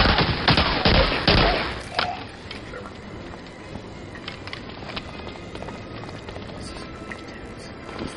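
A quick volley of pistol shots in Medal of Honor: Allied Assault on PC, several sharp cracks fired close together in the first two seconds, then fading into quieter ambient game noise with scattered small clicks.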